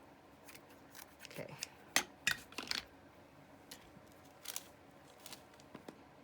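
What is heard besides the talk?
cutting paper with scissors for junk journal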